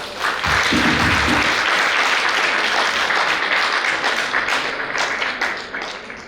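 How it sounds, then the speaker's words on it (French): Audience applause fills a graduation ceremony at a Haitian university, a dense, steady wash of many hands clapping at close range that holds throughout with only slight easing toward the end. "Et je vous demande d'applaudir encore une fois, s'il vous plaît"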